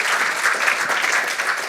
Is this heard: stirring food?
no